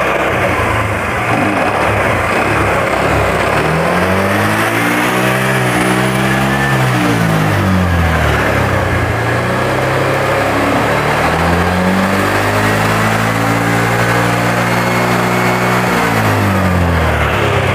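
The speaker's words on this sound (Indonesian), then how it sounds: "Tapi mesin bisa hidup." A Honda Vario scooter engine runs loudly and steadily, its pitch rising and falling through repeated revs.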